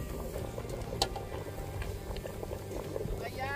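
A pot of corn on the cob boils outdoors at a viewing deck, giving a steady, close bubbling and churning with faint voices underneath.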